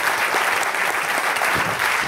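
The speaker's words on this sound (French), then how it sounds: "Je vous demande d'applaudir Alain Juppé." Steady applause from a seminar audience at a leaders' colloquium in Avignon, continuous and dense clapping filling the room for the full stretch, no talk over it.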